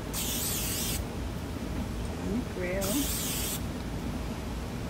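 Two short hissing bursts of an aerosol oil spray onto a portable flat camping grill, about a second each, come with brief talk in between over a steady background sizzle.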